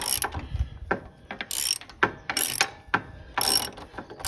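Ratchet wrench tightening bolts on a Cub Cadet engine mount during an engine swap, with repeated bursts of quick metallic clicking separated by short pauses, close and fairly loud.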